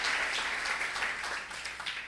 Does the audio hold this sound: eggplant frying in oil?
no